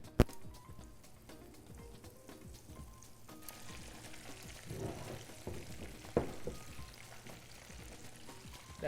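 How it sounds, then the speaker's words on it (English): Gluten-free panko-coated shrimp frying in hot oil, a steady soft sizzle with a few sharper crackles and pops as pieces go in, moderately close and with no talk over it. "we can start putting some of those shrimp in."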